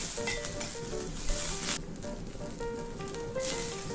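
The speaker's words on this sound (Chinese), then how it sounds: "然后将红葱头、蒜头、青葱下锅煸炒" Shallots, garlic and scallions stir-fried in hot olive oil in a wok, a loud continuous sizzle with bursts of crackle as the pan is stirred, close and without talk.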